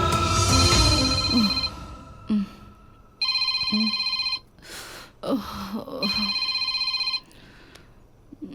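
A phone rings in two electronic bursts of about a second each, loud and close, with short breaths and sounds of movement between the rings.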